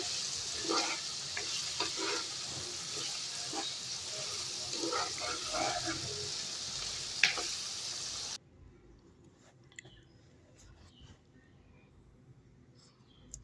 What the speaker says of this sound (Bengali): এখন আমি কিছুক্ষণ এভাবে নেড়েচেড়ে কষিয়ে নেব